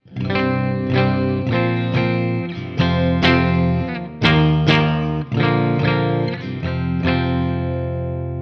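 Electric guitar chords strummed on the low-output bridge pickup in a rhythmic pattern with a bright, slightly driven tone, steady and close, with no voices.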